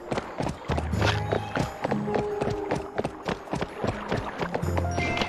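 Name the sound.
horse hooves clip-clop in Barbie Horse Adventures video game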